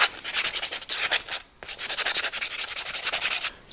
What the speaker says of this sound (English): So I'm just going to sand it down